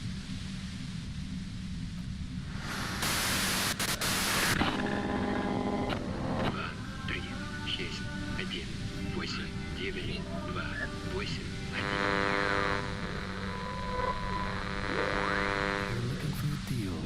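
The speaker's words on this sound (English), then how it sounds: "you can do it through the white noise" Radio white noise in the video game Disco Elysium: a loud burst of hiss stands out over a constant low rumble, with scattered electronic tones and a second softer wash of static later on.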